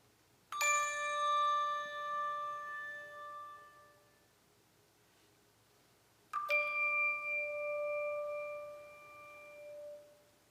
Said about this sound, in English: Lauren, Lynn, Ann, could you please first ring your D bells for us, and then for comparison, your D chimes on Dana's cue.